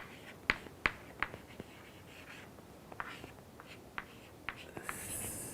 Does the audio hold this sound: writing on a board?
yes